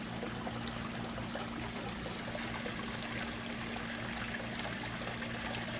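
Water splashes and streams continuously down a backyard pond waterfall, a steady, soft rushing trickle with no pauses, heard alone at low level.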